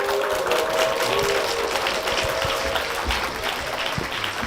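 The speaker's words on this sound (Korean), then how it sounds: "박수로 모시겠습니다" An audience at a Korean church gathering claps steadily to welcome a deacon, husband of a woman who has just shared her testimony; dense, sustained applause from a crowd with a faint murmur beneath.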